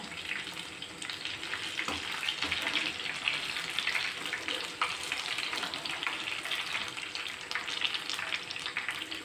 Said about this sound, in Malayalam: ബാക്കി പഴവും കൂടി ഇതുപോലെ ഫ്രൈ ചെയ്തെടുക്കാം